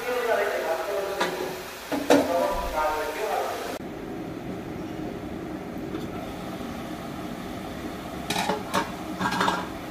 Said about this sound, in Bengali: শাক ভাজি করতেছি